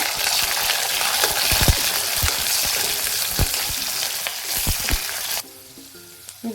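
Green chili sizzles in a pan with browned potatoes for sabudana khichdi, a steady hiss of frying broken by clacking stirring strokes, then a softer simmer near the end.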